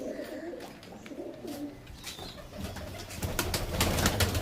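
Rajasthani pigeons cooing as they are released from a loft, soft repeated coos with a rustle of movement, growing somewhat louder and busier toward the end.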